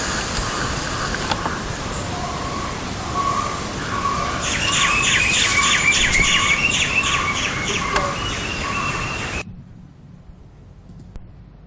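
Many birds call near a pond a few meters from a window, a busy mix of chirps, tweets and squawks that rises through the middle, then cuts to near silence at the end.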